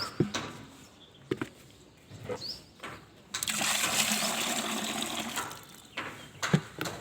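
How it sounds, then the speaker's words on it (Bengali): Liquid, including leftover rice starch water, poured into a container: a few scattered knocks, then a steady few-second gush of pouring, fairly quiet and close, with no talk. "এই দুটো জিনিস একটা পাত্রে ঢেলে দেওয়া হলো"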